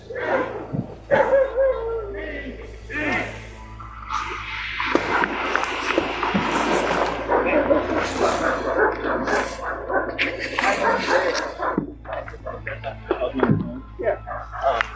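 Several dogs bark, yip and whimper in a house during a police visit, loud and close, mixed with overlapping voices of people talking throughout.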